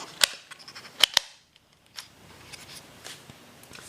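Sharp, crisp clicks from pressing the tactile button on a Motorola APX XE remote speaker mic, a few quick close presses in a pair and a cluster, followed by fainter rustling handling sounds.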